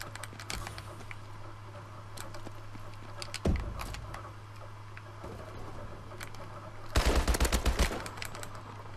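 Gunfire in the shooter Advanced Warfare: scattered sharp shots and short bursts over a low hum, with a louder close volley near the middle and a dense burst toward the end.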